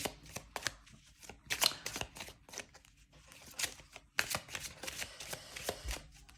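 Divination cards are shuffled and handled up close, with quick papery riffles and slaps in irregular bursts, crisp and fairly quiet, with no talking.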